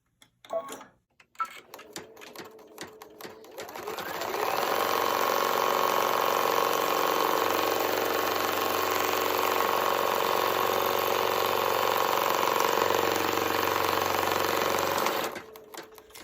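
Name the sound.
embroidery machine stitching a placement line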